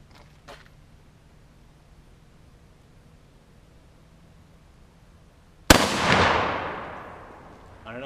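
A soft-tip 7.62x54R rifle round slams into a 3/4-inch AR500 steel plate in a backyard, one sharp, loud crack that rings out and slowly decays after a quiet stretch with a faint earlier tick.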